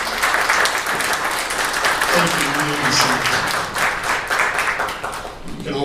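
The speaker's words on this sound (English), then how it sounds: "Let's give these folks a round of applause as we welcome them." Church congregation applauding to welcome new members at a Sunday worship service, steady broadband clapping throughout with a voice briefly speaking over it midway.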